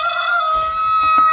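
A doorbell from Xsense plays a recorded rooster crowing, a single loud electronic cock-a-doodle-doo heard close up and alone.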